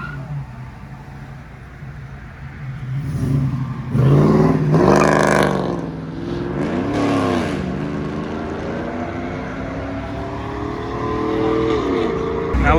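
A Ford Mustang at a car meet revs hard through several shifts, the engine note rising and dropping in loud, close waves over crowd noise.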